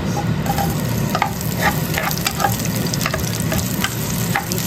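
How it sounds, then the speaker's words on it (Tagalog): Onion, garlic and ginger sauté in hot oil, giving a continuous, dense sizzle with frequent light crackles and the faint taps of stirring, close and steady throughout. "ang unang step ay igigisa itong mga to. Kaya antayin na natin siyang uminit ang mantika."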